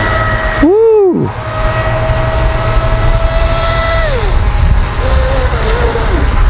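Volantex Racent V792-4 Atomic brushless RC speedboat running at speed, a continuous high motor whine with pitch sweeps as it passes and turns, heard from the shore with wind noise and brief voices.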